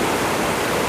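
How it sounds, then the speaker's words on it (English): Water rushes under a bridge on a road trip through Austria, Italy and Slovenia, a loud steady broadband roar that fills the whole moment with no other sounds. "Refreshing sounds of a lot of water."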